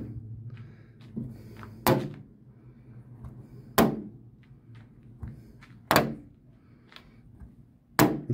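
A weak magnet with nylon backing is tossed repeatedly onto the steel door of a 1966 VW Beetle Convertible, giving four sharp, evenly spaced thunks about two seconds apart over a low background hum.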